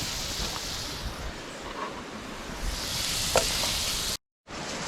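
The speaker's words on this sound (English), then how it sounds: "oil going in for the fries" Cooking oil hisses and sizzles as it heats on a hot outdoor flame for frying fries, a broad steady crackle with a sudden brief cutout near the end.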